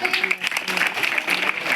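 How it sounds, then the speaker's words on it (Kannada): Schoolchildren clap together in a classroom, a steady dense patter of many small hands that runs for the whole short stretch, fairly close and loud, with a little voice mixed in. "ಎಲ್ಲ ಚಪ್ಪಾಳೆ"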